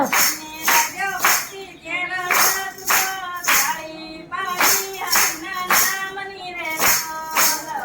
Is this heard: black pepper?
no